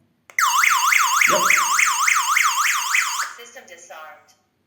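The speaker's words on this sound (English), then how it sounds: "I have opened the door and the alarm is triggered. It's gonna ring now." DIGOO DG-HOSA wireless home security alarm triggered by an opened door, blaring a loud, close warbling siren that sweeps rapidly up and down for about three seconds, with a brief spoken word partway through before it cuts off and fades.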